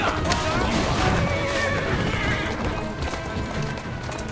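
A horse whinnies loudly up close, with hoof clatter and a voice mixed in over the noisy, busy sound.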